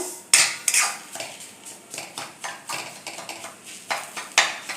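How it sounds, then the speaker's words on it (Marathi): Semolina and banana roasting in ghee are stirred with a metal spoon against the pan, giving a steady series of close scraping clinks and taps in an irregular rhythm, with no speech. "ते असं रव्यात मिक्स करत करत रवा भाजायचा"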